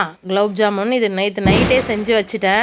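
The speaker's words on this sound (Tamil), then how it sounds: "பின்னாடி வெடி சத்தம்லாம் கேட்கும்." A single sharp Diwali firecracker bang bursts in the background midway while a person keeps talking steadily over it in a home kitchen.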